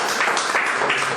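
Church congregation breaks into loud, close applause during a Spanish-language service, a brief dense burst of many hands clapping that stays strong throughout.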